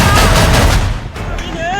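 Gunfire rings out at a protest in Pakistan-administered Kashmir: a loud, harsh burst of shots close by, fading into echoing reverberation.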